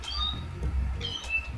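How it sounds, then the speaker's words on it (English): A pet cat in the video game No More Heroes gives a few short, high, wavering meows in quick succession, close and clear. "We can play with our cat."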